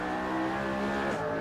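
A McLaren P1 race car in Assetto Corsa on the Silverstone circuit holds a steady, loud, harmonic engine note at high revs, with a brief dip and shift in pitch near the end, with no voices.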